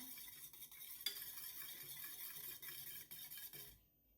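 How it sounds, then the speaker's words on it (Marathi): Beaten eggs whisked with salt in a bowl for an omelette, a quiet, steady scraping and tapping of utensil against the dish, with a sharper knock partway through before it stops. "हे छान असं मिक्स करून घ्या"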